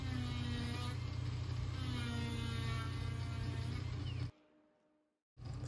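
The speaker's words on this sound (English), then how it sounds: "here's another test with a die grinder" A die grinder carves wood beside a benchtop dust collector housed in a solid ash enclosure, making a loud, steady motor drone and whine. The sound cuts off abruptly, falls nearly silent for about a second, then starts again.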